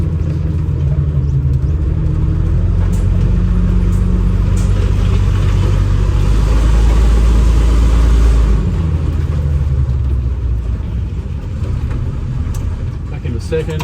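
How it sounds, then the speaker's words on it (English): An AEC Merlin bus engine pulls under load, a loud, deep rumble that holds steady and swells briefly in the middle before easing. A voice can be heard over the engine noise. "Into neutral, foot off the throttle, into second, and power on."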